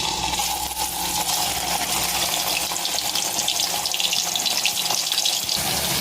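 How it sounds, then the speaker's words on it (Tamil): Dry fish frying in plenty of smoking hot oil in a kadai gives off a loud, steady sizzle and hiss that fills the whole stretch without pause, with no voices. "அப்படியே கொஞ்ச நேரம் நல்லா ஃப்ரை ஆகட்டும்."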